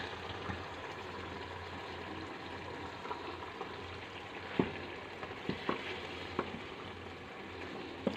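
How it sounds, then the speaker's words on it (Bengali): Boiled dal is stirred into a frying tarka masala for dhaba-style egg tarka, giving a steady sizzle with wet scraping and spoon clacks that come at irregular intervals. "সেদ্ধ করা ডালটা দিয়ে একটু নেড়ে নেব"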